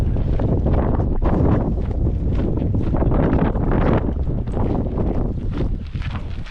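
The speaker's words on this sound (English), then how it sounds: "It's so windy." Strong wind on the Nullarbor, a loud continuous roar buffeting the microphone with gusty swells throughout, close and unbroken, with no voices.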